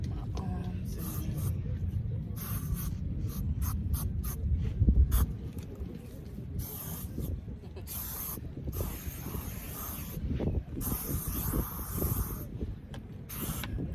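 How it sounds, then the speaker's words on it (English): SPF 30 spray sunscreen hisses onto arms at the beach in a run of short, sharp bursts, layered over steady low wind and shoreline rumble. "I sprayed myself with this like beach defense. It's a SPF 30."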